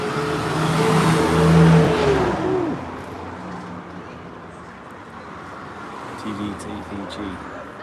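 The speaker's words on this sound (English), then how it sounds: "truck coming." A truck passes by on a road, a loud engine roar that swells and then fades as it goes past, followed by fainter traffic noise.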